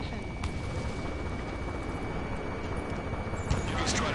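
Continuous rumbling battle din of gunfire and artillery in a city under martial law, with jets roaring overhead, from the combat flight game Ace Combat 7: Skies Unknown, a dense steady roar with occasional sharper reports.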